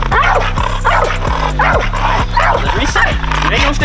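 A working dog barks at a spring pole during training, loud, rapid and continuous barks close by, with a person talking and urging it on over the barking.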